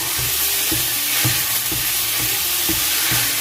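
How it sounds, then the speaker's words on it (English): Seasoned ground meat with salt frying in a pan for a Rotel-style cheese dip, steady sizzle with repeated scraping thuds as a utensil mashes it, about five or six regular strokes up close. "I am going to get to mashing that up."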